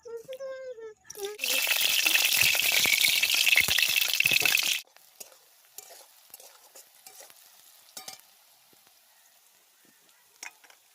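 Chicken legs cooking in a pan make a loud, dense sizzle with stirring for a few seconds, then drop to quiet, scattered clinks and faint frying sounds.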